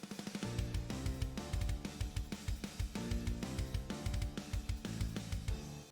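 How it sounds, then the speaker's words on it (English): Fast, driving drum pattern with rapid kick and snare hits in a loud, dense mix, written for an energetic anime-style opening intro. "I came down here and got some pretty fast drums going on."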